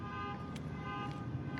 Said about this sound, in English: And the car alarm turned off.